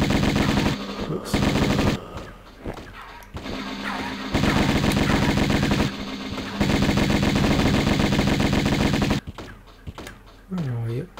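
Dense bursts of rapid gunfire from powerful weapons in Tomb Raider 1 Remastered, loud and sustained in long volleys with short gaps, a few sharper single shots and a brief tonal game sound near the end.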